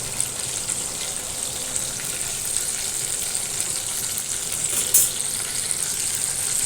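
Stuffed bombil fish fry in hot oil in a pan, giving a steady, close hissing sizzle that holds evenly throughout, with one brief louder crackle partway through and no talking.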